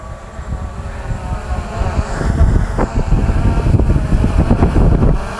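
A Bugs 3H drone in flight outdoors, its steady buzzing whine near and loud, rising in strength midway and mixed with gusty wind noise on the microphone.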